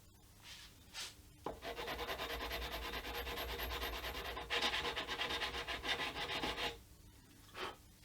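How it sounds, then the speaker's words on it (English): A sanding block rubs back and forth across a handmade guitar nut in a steady, close rasping rhythm that runs for several seconds, with brief quieter moments before and after the sanding. "Sanding block,"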